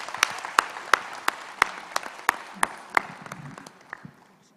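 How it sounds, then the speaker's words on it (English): Scattered applause from an audience at a World AIDS Day celebration for the Malaika team, a dozen or so distinct claps in an uneven rhythm that gradually thins and fades out. "Malaika team, you deserve another applause."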